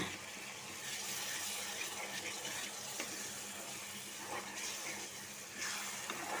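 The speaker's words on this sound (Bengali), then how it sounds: "একটু পানি দিব, যেহেতু গুঁড়া মশলা, পানি না দিলে পুড়ে যাবে।" Water poured into a pan of frying powdered spices with garlic, turmeric, chili and salt, a steady gushing pour with faint sizzle, continuous and fairly quiet, no talking.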